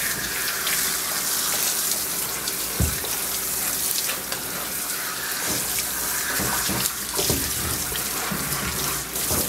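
Water runs steadily from a tap during a dog's bath at a grooming session, a continuous close splashing rush with occasional louder spatters and knocks as the stream hits the dog and tub.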